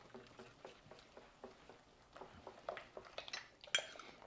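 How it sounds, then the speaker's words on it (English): A spoon stirs black pepper and Redmond real salt into an artichoke dip in a bowl, giving a series of quiet scraping clinks and taps that grow busier and more rapid toward the end. "Go ahead and mix all that up really well"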